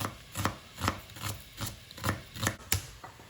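A knife slicing onions on a cutting board, about eight steady evenly spaced thuds with short scraping strokes between them, close and alone.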